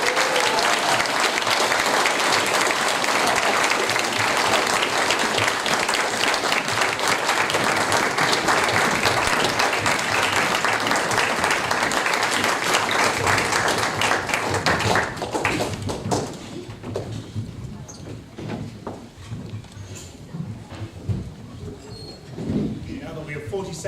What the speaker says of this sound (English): That is your cue for rapturous applause.